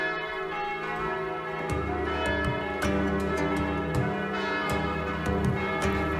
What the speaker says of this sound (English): It's noon in Teisendorf, and I guess you ring the bell all day when that happens.